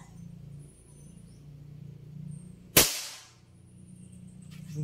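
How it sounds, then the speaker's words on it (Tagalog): A single loud rifle shot fired while zeroing the rifle, a sharp close crack that decays quickly, standing out against a low steady background hum. "First shot."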